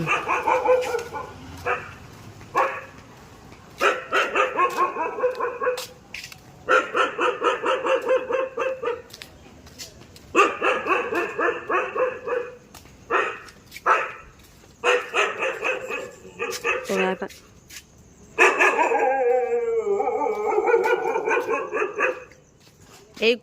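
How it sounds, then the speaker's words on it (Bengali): A dog barks repeatedly in loud, close bursts at night, the volleys broken by short pauses, with a few whimpering yips and some background talk between them. "এই কুকুরটা আমাদের দেখলে প্রতিদিন ঘ্যাও ঘ্যাও করে"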